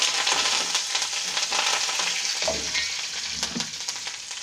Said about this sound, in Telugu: వేసుకున్న తర్వాత పోపు వేగిపోయింది